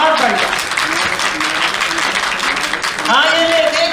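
Applause for the Sabrang dance group at the three-day Hindon festival, a steady wash of clapping that fills the whole stretch, with voices and tonal sounds running through it.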